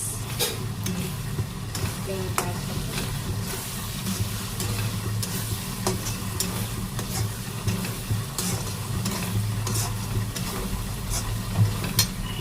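Aloo matar keema with cumin and garam masala stirred and fried in a kadai, a steady loud sizzle with scraping stir strokes running continuously throughout, no voices over it.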